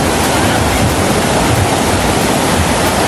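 Strong river current rushing over slippery, moss-covered rocks, a loud, steady roar of turbulent water filling the whole short stretch without pause.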